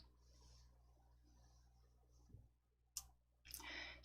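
Sharp mouse clicks while selecting a font in a word processor, two or three distinct close clicks separated by quiet gaps, with faint rustling before them.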